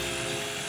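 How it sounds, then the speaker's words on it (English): Chainsaw cutting through a large block of clear ice, a steady, loud, continuous buzzing whine without break. "We need to run it through the chainsaw"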